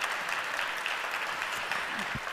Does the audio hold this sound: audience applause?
yes